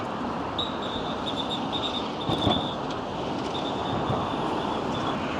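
Subway train running through an underground station on a large island in China, a continuous loud rumble of wheels on rail with a high, wavering wheel squeal and a few sharp clanks along the way.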